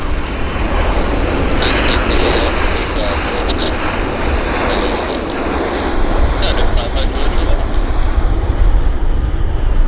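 Heavy aircraft taxiing at Vancouver airport, a loud, steady engine roar that fills the whole stretch, with brief higher whines surfacing now and then and no pauses.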